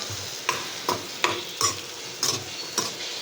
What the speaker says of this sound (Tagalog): Haluin lang.